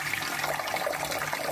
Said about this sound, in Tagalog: So, banlawan, pakinggan nyo yung tubig.